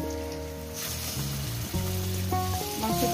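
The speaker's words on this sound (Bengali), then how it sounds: "পেঁয়াজটাকে আমি ভেজে নিয়েছি, এবার আমি লেগ পিসগুলো দিয়ে দেবো।" Large chicken leg pieces hitting a pan of fried onions and sizzling steadily, a loud, continuous frying hiss with a fresh surge as more meat goes in.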